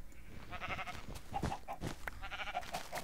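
Minecraft sheep bleat in a few short, faint calls against quiet game background noise, spaced irregularly across the stretch without anyone speaking.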